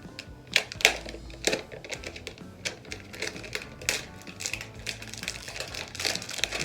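Plastic protective film is peeled and crinkled off a Wacom Intuos Pro drawing tablet, giving a close series of sharp crackles and rustling snaps in irregular bursts with no talking.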